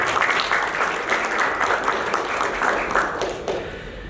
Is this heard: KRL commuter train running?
no